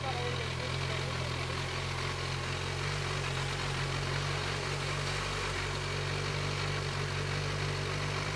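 A motorcycle engine idles steadily on a cobblestone street at the foot of a steep climb, a low continuous rumble with a constant hum running unbroken throughout and no talk over it.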